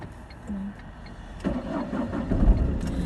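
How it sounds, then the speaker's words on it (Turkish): A car engine cranks and catches, then settles into a rough idle while warming up for a first drive, the running engine growing slightly louder toward the end; no one speaks over it. "Biraz bekliyoruz arabanın ısınmasını."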